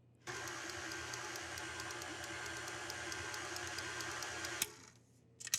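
Shortbread dough of butter, flour and salt is mixed in an electric stand mixer, a steady close mechanical whir with a rhythmic ticking that runs unbroken, then cuts off abruptly near the end, leaving a few clanks.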